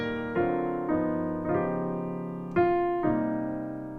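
Gospel piano plays a 2-5 passing progression with a tritone substitution: six clear chords struck one after another, each ringing and decaying, close and moderately loud with no voices.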